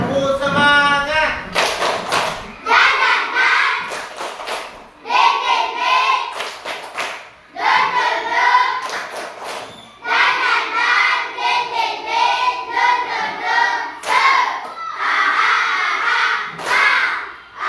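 Schoolchildren in a classroom perform a rhythmic clapping chant, bursts of hand claps and thumps alternating with chanted voices in short repeated phrases, loud and close.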